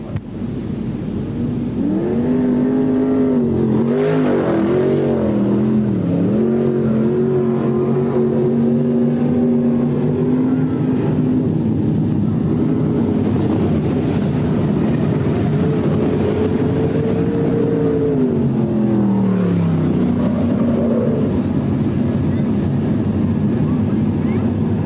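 Speedway sprint cars, 1987 feature race at Newcastle, rumble and roar as the field restarts, engine pitches rising and falling for a sustained loud stretch under an excited commentator's voice.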